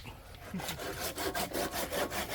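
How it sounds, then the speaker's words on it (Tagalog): A hand saw cuts through wood in quick rhythmic back-and-forth strokes, close by and steady, with no voices. "Panay na ang lagari."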